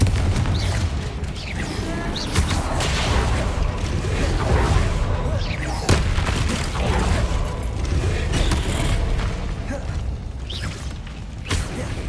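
A Confringo fire spell explodes during combat in Hogwarts Legacy on PS5, giving sustained loud booming blasts and rumbling over a dense, continuous game soundscape.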